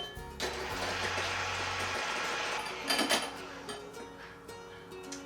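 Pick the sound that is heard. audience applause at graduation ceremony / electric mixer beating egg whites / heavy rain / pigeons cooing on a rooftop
electric mixer beating egg whites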